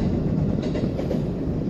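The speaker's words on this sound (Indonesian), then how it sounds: "Ada kereta di sebelah kanan." A commuter train rolls by on a rail line between Tanjung Barat and Depok in Jakarta, a steady low rumble of wheels and cars with faint rhythmic clatter heard from close by.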